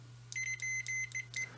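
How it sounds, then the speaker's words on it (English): A digital multimeter in continuity check mode beeps five times in steady, evenly spaced electronic tones over a constant low mains hum, with no talking. "So it's beeping and telling me it sees a 4-ohm connection."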